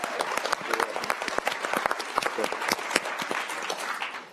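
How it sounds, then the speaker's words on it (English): Audience applause at a public forum, a dense, steady patter of many hands clapping close by for about four seconds, with no talking over it. "Let's clap again."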